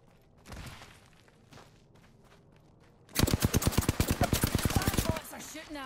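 In a battle royale video game, bots open fire: scattered single shots come first, then a loud, rapid burst of automatic gunfire sounds close by for about two seconds before it stops.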